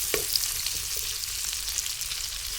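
Spices sauté for a Filipino escabeche in a steady, dense sizzle of frying oil. A few faint stirring clicks sit on top, and nobody speaks.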